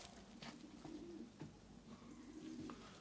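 Racing pigeons at a loft show coo in repeated low throaty phrases, fairly close and clear over a quiet background, with a few faint clicks and rustles.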